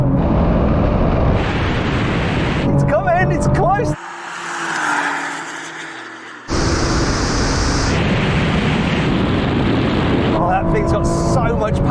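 A Honda NSX and a Porsche 911 Turbo S tear past in a drag race, a loud, close roar of engine and rushing air that drops briefly into near quiet before surging back.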